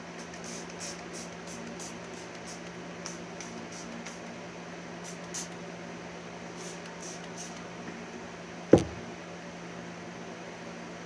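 A spray bottle mists yellow paint thinned with water onto styrofoam, sending out a series of short, faint hissing squirts in quick bursts, with a single sharp knock near the end.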